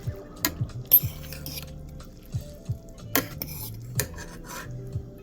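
A metal fork and cutlery clink against a bowl while instant Yamadai kimchi ramen is prepared, with sharp, scattered taps and scrapes spaced irregularly over a quiet background, close and fairly crisp.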